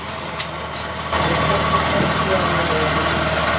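A Honda Shine BS6 motorcycle engine idles with a steady low hum that grows louder partway through, with a voice talking over it.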